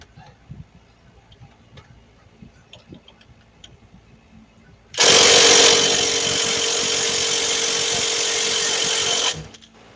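A socket tool, likely powered, runs in one loud, steady burst of about four seconds while removing an 18 mm bolt from a front control arm on a 2011–2017 Dodge Charger, after quiet workshop sounds.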